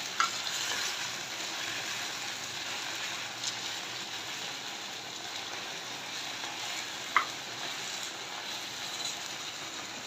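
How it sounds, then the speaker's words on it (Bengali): Bata fish fry in a pan with a soft, constant sizzle and crackle that runs throughout at low volume. Now and then a faint utensil tap cuts through. "মাছগুলো ভাজা হয়ে গেছে,"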